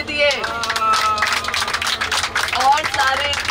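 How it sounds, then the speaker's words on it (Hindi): Passengers on a bus trip to Amritsar clap together in a steady patter of hand claps, mixed with cheerful chatter and voices throughout. "ताली ताली की आवाज आनी चाहिए"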